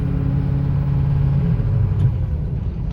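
A 2006 Ford F250 Lariat pickup with a turbo engine accelerating while driving, giving a steady, loud low rumble from inside the cab with no break in the sound.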